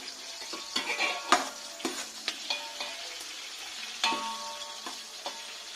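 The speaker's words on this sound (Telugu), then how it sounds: "మొదటిగా ఇలా ఆనియన్స్ వేసుకోవాలి, పచ్చిమిర్చి," Onions and green chillies frying in hot oil for chicken biryani, a soft steady sizzle punctuated by several sharp stirring clinks and scrapes of a utensil against the pan.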